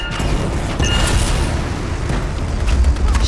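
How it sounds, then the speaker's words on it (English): Explosives detonating inside a foundry in the video game Anthem: heavy booming blasts and crashing rumble, loud and close, with a fresh surge partway through and deep thuds continuing to the end. "Shields down, but I think the explosion destabilized the foundry."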